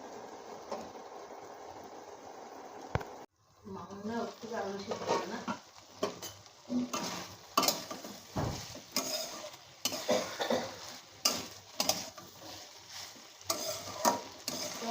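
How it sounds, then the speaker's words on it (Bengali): Masala for a fish curry fries in a covered pan over low gas, giving a steady sizzle broken by repeated clanks and scrapes of a spoon against the pot, close and fairly loud, with faint talk at times. "গ্যাসটা কমিয়ে ঢাকা দিয়ে রাখবো মশলাটা ভালো করে কষানোর জন্য"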